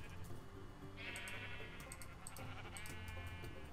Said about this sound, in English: The sheep are disagreeing with me.